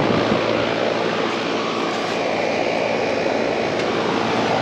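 Lennox outdoor condenser unit fan running outdoors and blowing warm air off the top, a loud, steady broadband roar with a low hum throughout, no talking.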